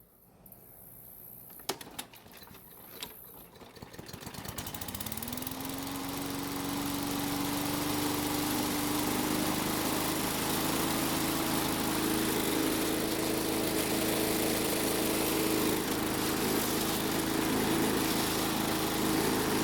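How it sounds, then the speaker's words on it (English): A few pulls of a starter cord, then a small Murray lawn mower engine catches, revs up and settles into a loud, steady drone up close. "the engine started even with a very soft and easy pull on the rope"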